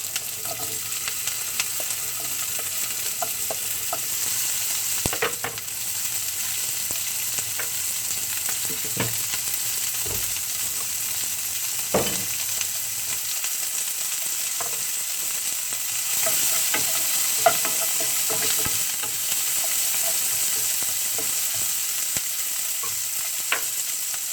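Onion and peppers for pineapple fried rice are stir-fried in a pan, giving a loud steady sizzle broken by scattered scrapes and taps of the spatula, with no talk.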